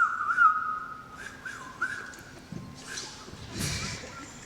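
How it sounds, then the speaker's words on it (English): A person whistles a tune in a hall during a name-that-tune game, a faint, wavering melody that fades out and gives way to soft room noise and scattered movement. "I'll just whistle."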